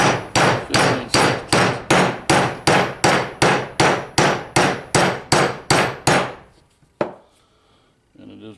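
Hammer rapidly striking a 15/16 socket on an extension to drive a bearing out of an NP208 transfer case, about fifteen sharp, evenly spaced metallic blows up close, then one last isolated hit after a pause.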